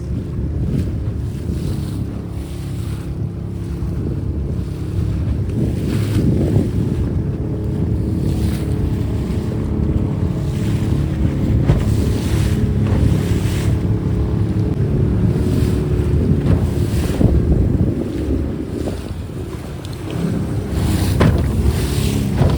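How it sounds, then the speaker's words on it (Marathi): Big sea waves surge and crash continuously around a traditional fishing boat out on rough water, with heavy wind buffeting the microphone and no voices. "कारण की पूर्ण अख्ख्या समुद्रात लाटाच लाटा येतात आज"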